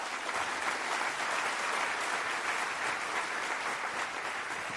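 Audience applause welcoming the keynote speaker at the OHBM 2016 conference, steady sustained clapping from a large crowd filling the room with no voices on top.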